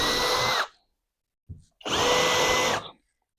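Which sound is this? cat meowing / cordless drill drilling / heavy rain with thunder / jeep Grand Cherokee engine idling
cordless drill drilling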